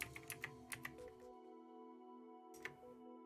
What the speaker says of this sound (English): I'm not typing in the right place.